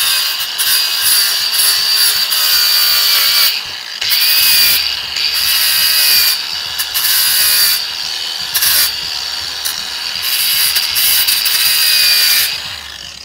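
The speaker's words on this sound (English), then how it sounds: "I've got my angle grinder just with a little flap disc on there" An angle grinder fitted with a flap disc smooths sharp metal edges on a fire extinguisher being made into a gong, a loud, close, high whining grind that comes in repeated passes with brief drops between them.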